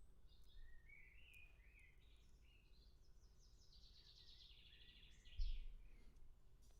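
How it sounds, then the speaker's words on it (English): Birds sing outside on a fine day, a run of faint, high chirps and warbling phrases heard from a distance over a low steady hum, with a brief thump near the end. "Can you guys hear the birds outside?"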